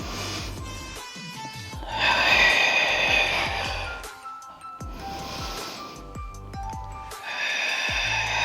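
Deep breathing during a Pilates ab workout: several long inhales and forceful hissing exhales in a slow repeating cycle, close to the microphone, with soft background music and no talk.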